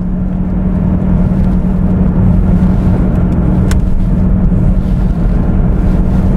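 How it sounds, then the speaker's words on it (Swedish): A Jaguar X-Type weaves through a slalom on a test drive, heard from inside as a loud, steady road rumble and engine drone with a low hum, no talking. "när vi provkör bilen då kan vi prova att köra lite grann i slalom faktiskt"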